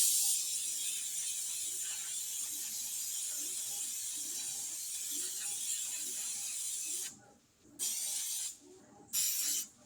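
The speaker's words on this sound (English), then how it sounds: "Now we're going to spray a bundt pan with Baker's Joy." Baker's Joy baking spray hisses onto a bundt pan in a long, steady, close-up jet, followed near the end by two shorter separate bursts, over faint rhythmic clicking in the background.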